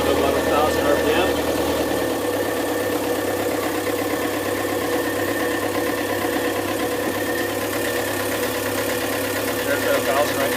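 A Yanmar 4JHE 44 hp marine diesel engine idles steadily at about 1,000 RPM, a close, continuous low rumble with a knocking vibration running evenly throughout.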